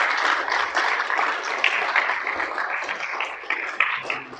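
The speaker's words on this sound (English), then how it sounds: "Can we have another round of applause," A lecture audience at an inclusive design talk claps steadily, a dense, even burst of many hands filling the room for several seconds, with a few sharper individual claps standing out near the end.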